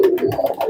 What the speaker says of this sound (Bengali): চমৎকার একটা মায়া কবুতর।